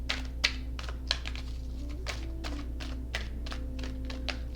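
Tarot cards are shuffled in quick irregular taps and light thumps, a dense clicking patter with a few sharper knocks, over a steady low hum.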